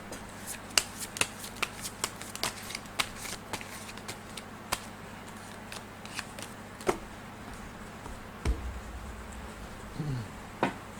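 Tarot cards are shuffled during a daily horoscope reading, making close, soft riffling with sharp snapping slaps at irregular intervals, plus a few muffled handling bumps near the end.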